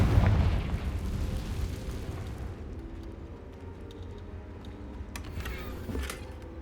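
A Confringo fire spell in Hogwarts Legacy bursts with a loud low boom at the start, then trails off into a rumbling, crackling decay with a few faint sharp pops near the end.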